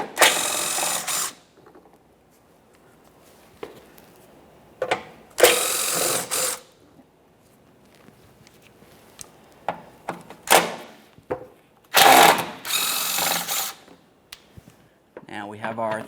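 A power tool spins out 10mm-headed mounting bolts on a 2007-2017 Jeep Patriot subframe crossmember, coming in several short, loud whirring bursts separated by quiet gaps.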